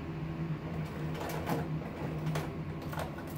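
A sewing machine stitches a window seat cushion cover, running forward then reversing and going forward again, a steady mechanical whirr with a low motor hum and faint clicking of the mechanism, close and continuous with no talk.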